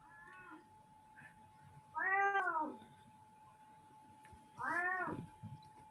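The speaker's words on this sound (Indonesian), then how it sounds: "Kucing siapa tuh?" A cat meows three times, one short faint call followed by two louder drawn-out meows spaced a couple of seconds apart, over a quiet background with a steady faint electrical hum.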